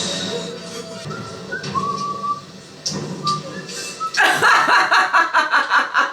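Someone whistles a few short tones amid quiet background noise, followed by a burst of rhythmic laughter.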